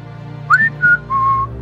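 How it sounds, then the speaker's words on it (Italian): An app's alert whistle sounds in three clear, tonal notes, a short rising chirp followed by two longer steady tones, loud and close over a low background hum. "Con la mia app vi avverto con un fischio quando le state attraversando."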